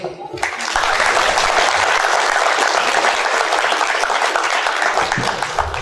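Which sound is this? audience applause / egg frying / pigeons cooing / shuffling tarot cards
audience applause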